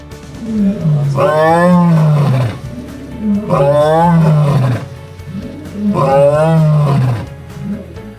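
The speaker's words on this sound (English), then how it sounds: "One stopped less than 20 feet from us to loudly call the rest of his pride" A male lion gives three deep, loud, rhythmic roars from less than 20 feet away on an Okavango safari, calling his pride, each roar rising into a long groaning bellow before a short pause.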